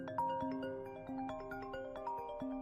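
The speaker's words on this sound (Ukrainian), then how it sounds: "і саме тоді зазвонив телефон" A telephone rings with a faint, tinny melodic ringtone, a repeating pattern of bright electronic tones with no voices.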